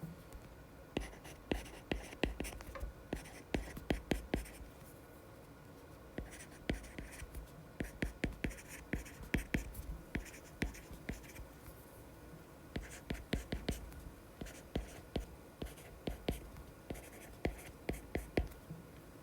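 Quiet, close pen or pencil strokes on paper in short bursts and scratches, writing out a sentence at a study desk, with soft speech and breathy whispering underneath.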